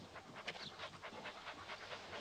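Dogs pant in a rapid, steady rhythm of quick breaths, soft and fairly close against a faint background, with no talk.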